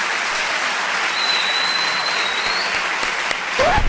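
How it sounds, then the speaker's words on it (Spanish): Applause from an audience after a debate on God's existence, a steady wash of distant clapping with a faint electronic whine above it and a brief rising sound near the end. "un fuerte aplauso, por favor"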